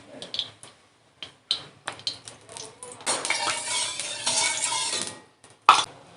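White cooking oil goes into a wok for frying flat bean fritters: a few metallic knocks and clinks, then a couple of seconds of continuous rushing pour, ending with a sharp clack.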